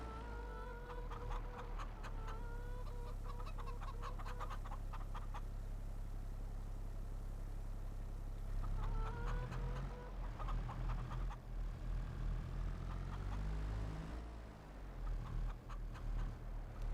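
Chickens in Farming Simulator 22 cluck in repeated short bursts over a steady low farm hum, close and clear, with no talking.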